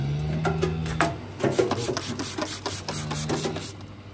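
A knife slices and trims horn from a cow's hoof during treatment of a white line lesion, producing short, uneven rasping and scraping strokes, close and distinct, over a faint low hum.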